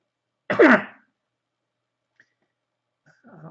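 A single short, throaty cough close to the microphone, followed by near silence and a faint breath at the end.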